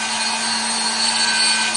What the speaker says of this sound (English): a stump cutter is one of my second favorite bits, and the reason being is it takes a lot of wood away